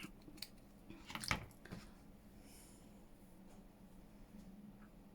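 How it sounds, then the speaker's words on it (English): Scissors snip once through jute twine, a brief close crunch amid faint handling noise at low level. "I'm just going to grab some, this little jute. I think I'll just need two. And cut it in half."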